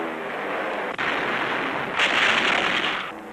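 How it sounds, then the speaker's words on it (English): A Soviet Black Sea Fleet anti-aircraft barrage roars as a dense, continuous wash of gunfire and blasts on an old newsreel soundtrack, with a sharp burst near one second and a louder surge later. "the fleet throws up a barrage of anti-aircraft fire."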